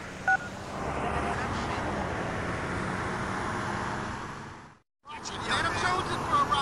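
Tones of a public phone being dialled outside a courthouse in GTA Liberty City Stories, heard over city traffic noise and a murmur of voices, cut off by a brief silence before the street ambience returns.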